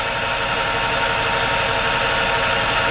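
A JET Arboga 20-inch drill press runs at low speed, giving a steady, fairly loud mechanical hum and whirr with no change over a few seconds and no talk.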